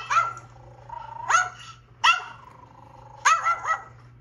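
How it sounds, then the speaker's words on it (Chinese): A poodle barking as played back by Siri on a phone: several sharp, close barks in uneven bursts with short gaps, over a faint steady hum. "这是贵妇犬。"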